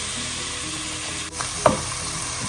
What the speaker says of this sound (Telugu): ఆయిల్ కాగిన తర్వాత ఆనియన్స్ వేసేసుకోవాలి.